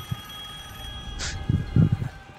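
Telephone ringing in a phone booth in a video game, a short bright ring over a low ambient hum, followed by a few soft thuds.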